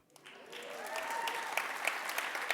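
An audience applauds at a Native American honoring event at Boston City Hall, a steady patter of many hands clapping that builds from a soft start and holds throughout, with faint voices in the background.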